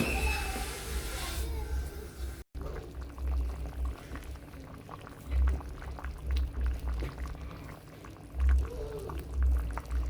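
A covered pot of arrowroots and green bananas comes to a boil, giving a low bubbling rumble and gurgling liquid that swell in waves close by, after a brief pouring-like wash at the start.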